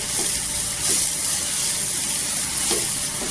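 Water splashed into sukat chutney (dried fish chutney) sizzling in a hot pan, producing a steady loud hiss and crackle throughout with a few brief splashy bursts, no voices.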